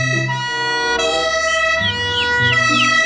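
Toy fire truck siren wailing loudly and close, its electronic tone cycling through repeated rising and falling sweeps over about three seconds, with no voices.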